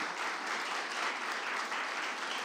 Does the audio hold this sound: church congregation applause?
yes